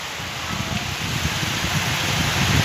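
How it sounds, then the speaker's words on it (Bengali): Strong wind gusts through mango trees during a rainstorm, producing a dense, steady rush of rustling leaves and rain-like hiss that grows slightly louder throughout, with no voices. "বাতাসের গন্ধ দেখেন, বাতাস দেখেন, বাতাস বাতাস"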